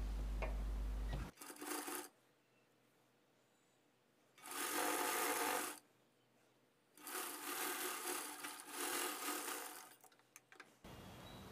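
A sewing machine stitches blouse lining fabric for a size 36 boat neck blouse, running in three separate bursts of steady whirring with quiet pauses between them.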